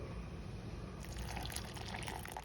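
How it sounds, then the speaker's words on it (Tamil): Cooked lentil water is poured steadily into a pot of amla rasam, a soft gurgling splash that starts after a quiet moment and keeps going, fairly faint. "வேக வச்ச பருப்பு தண்ணியை விட்டுருங்கோ."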